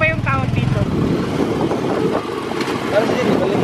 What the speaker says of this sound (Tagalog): Sakay kami ng payong-payong.